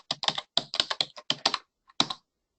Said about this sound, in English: next I'll be typing Hebrew.